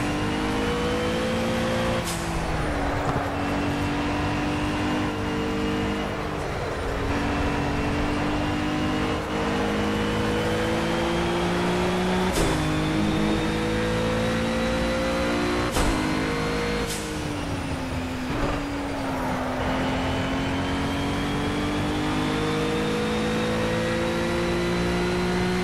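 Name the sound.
Cadillac ATS-V.R GT3 race car accelerating in Project CARS video game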